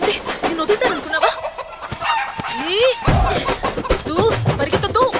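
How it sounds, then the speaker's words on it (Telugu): A chicken clucks and squawks loudly and close up in an agitated burst as people chase it, with repeated sharp calls and a brief crow-like cry. "కోడిని పట్టుకోవాలా?"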